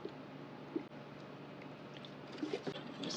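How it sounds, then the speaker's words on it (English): Alcohol poured onto a glass oil painting palette, a soft continuous trickle and splashing liquid sound with a few small wet squishes, fairly quiet and close. "I'm just going to pour some of the alcohol onto"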